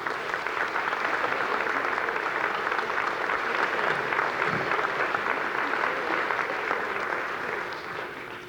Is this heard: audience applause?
yes